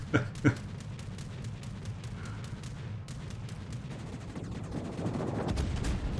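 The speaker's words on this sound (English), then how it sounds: "And here comes the AP bombs." Armour-piercing bombs strike a warship in World of Warships, giving two sharp blasts near the start, then a steady roar of gunfire and explosions that builds louder toward the end.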